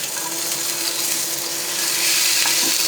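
Fish fillets sizzle and crackle steadily in hot oil in a pan after being flipped, a dense continuous frying hiss that swells slightly toward the end, with no talk.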